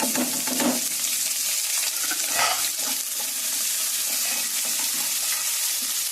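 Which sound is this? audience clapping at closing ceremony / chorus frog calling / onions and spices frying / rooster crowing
onions and spices frying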